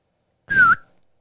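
A single short whistle from a person, one clear rising then falling tone lasting about a quarter second, close and alone in an otherwise quiet room.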